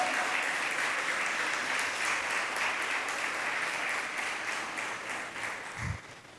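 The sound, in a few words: applause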